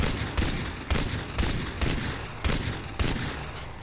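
Gunfire in the shooter game Far Cry 3: loud, repeated shots cracking out at a steady rhythm about every half second, each a sharp broadband burst with a short decay, with no talking.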